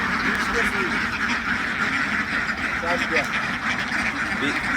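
Ducks on a duck farm quack in a noisy overlapping chorus, fairly close and continuous, while people talk over the flock.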